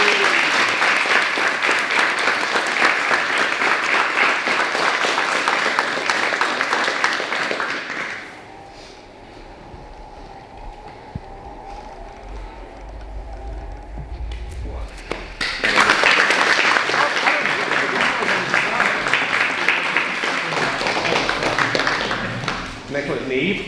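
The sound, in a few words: audience applause at belt promotion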